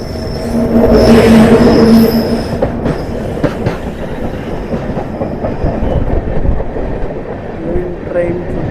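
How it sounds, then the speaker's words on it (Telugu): A train rushes past on the adjacent track near Nellore, heard from inside a moving express: loud rumble and rattling clickety-clack, slowly easing off, with faint voices in the background. "అటుపక్క నుంచి ఒక ట్రైన్ వస్తుంది"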